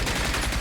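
Dense, rapid automatic gunfire from a machine gun in the video game RAGE, a short loud burst of continuous shots that fills the moment.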